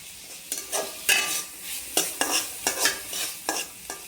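Paneer bhurji is sautéed in a pan, with a rhythmic series of sharp spatula scrapes and stirring strokes over a soft, steady sizzle, close up and with no voices.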